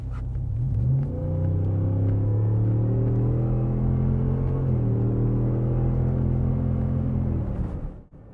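A 2020 Ford Super Duty with the 7.3 V8 and a performance exhaust pulls through manually held gears, a deep rumbling drone rising in pitch, easing at a shift, climbing again, then cutting off near the end.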